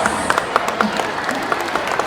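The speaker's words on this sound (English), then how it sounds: "Let's give them once more a big round of applause." An audience at a pageant gives the finalists a round of applause, a steady wash of clapping with a few distinct claps standing out, moderately loud and even for two seconds.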